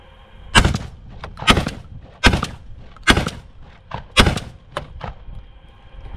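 A shotgun fires test cartridges ahead of hunting season: five loud, sharp blasts spaced about a second apart, each with a short ringing tail, and no voices between shots.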